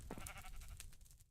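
A sheep in the Minecraft Sky Factory 3 video game gives one short, wavering bleat, heard close up and alone.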